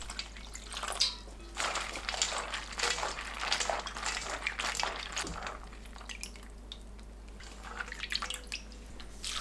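Dried radish strips rinsed in water for a Korean mixed-grain rice dish, giving soft, continuous splashing and dripping with brief sloshes, moderately close and unaccompanied by talk.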